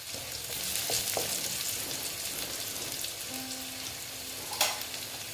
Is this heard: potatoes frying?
yes